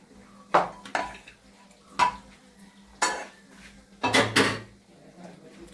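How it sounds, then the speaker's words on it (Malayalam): A spoon stirring a mayonnaise mix in a dish, heard as a series of sharp clinks and scrapes against the bowl at irregular intervals, close and fairly clear, with a brief busier cluster near the end. "ഒരു സ്പൂൺ ഇട്ട് ഇളക്ക്."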